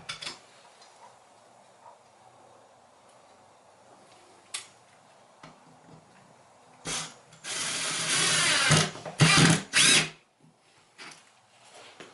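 Quiet clicks and ticks, then a Ryobi 18V cordless drill fitted with an 18V 5000 mAh lithium-ion battery whirs in several short, loud bursts as it drives a screw.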